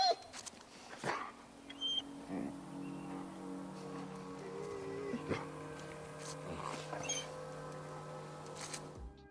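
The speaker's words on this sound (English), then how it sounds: "The sound of the dog whining whilst trying to lift its owner's arm up is really sad" A dog in The Last of Us 2 whines softly beside its dead owner in faint, intermittent whimpers, with scattered light clicks and shuffling around it.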